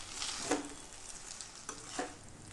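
Chicken chow mein stir-fried in a pan, a steady soft sizzle underneath with a couple of sharper scrapes and clanks of the spatula as the noodles and chicken are tossed.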